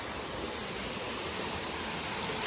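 Mae Ramoeng Waterfall, a roadside waterfall in Thailand, rushes as a steady, dense wash of falling water, close and unbroken.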